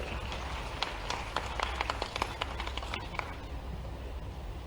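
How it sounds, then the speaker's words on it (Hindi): Brief applause from an audience at a cyber awareness campaign launch event in Bhopal: a scattered burst of hand claps that thins out and fades after a few seconds. "जोरदार तालियां हो जाएं श्री ए साई मनोहर जी के लिए"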